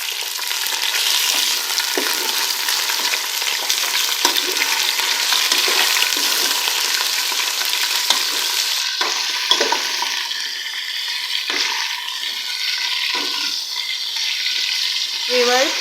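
Beef frying with onions in a pot, loud continuous sizzling and crackling with stirring scrapes and clatter in the later part, no talking.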